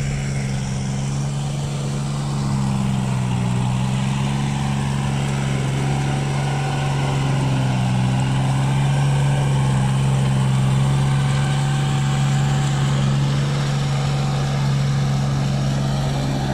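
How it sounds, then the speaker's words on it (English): A tractor fitted with special wheels works a flooded rice field in the Philippines, its engine a steady, continuous drone heard from a moderate distance with no talking. "here's one who has a tractor and he's working it up"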